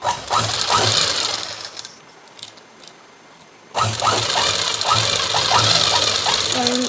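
A sewing machine stitches darts on a blouse, running in a steady rapid whir, pausing briefly to near quiet, then starting up again close by.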